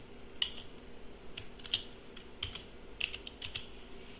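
Someone types a captcha code on a computer keyboard, producing quiet, irregular key taps in small clusters against a faint steady background hum.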